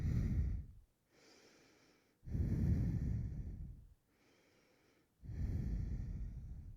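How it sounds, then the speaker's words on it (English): Deep, slow breaths during a Hatha yoga class: three long, breathy exhales alternate with softer, quieter inhales, close and alone, without talk. "let's do 2, 3 good breaths"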